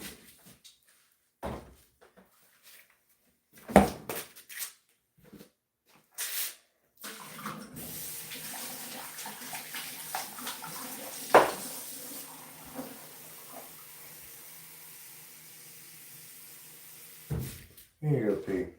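A tap runs to refill a pet's water bowl, a steady rush lasting about ten seconds, preceded by scattered knocks and clunks like cupboard doors.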